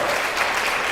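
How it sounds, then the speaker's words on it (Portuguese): A church congregation breaks into a short burst of applause for Jesus during a Portuguese-language sermon, a dense wash of clapping lasting about a second. "dar uma salva de palmas a Jesus"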